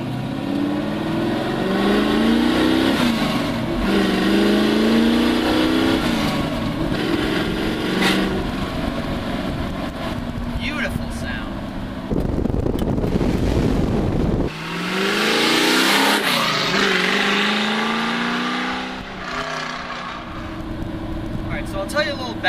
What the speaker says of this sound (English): I have exhaust cutouts on this car, so the exhaust is shooting right out before the mufflers